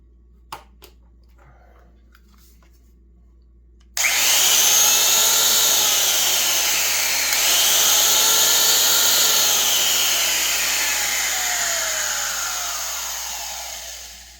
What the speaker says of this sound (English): This is a 5/8 horsepower Black & Decker router.